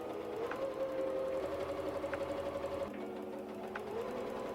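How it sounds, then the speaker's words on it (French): Sewing machine running a continuous line of stitching along a trouser seam, a close steady mechanical whir with a brief change in pitch partway through. "Et là, je vais venir coudre à 1 cm tout le long."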